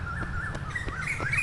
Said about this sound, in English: Hear the bird sound.